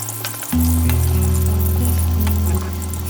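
Bhetki fish frying in hot oil in a wok; after a brief quiet start, a loud, close sizzle bursts in and continues steadily, with no one speaking.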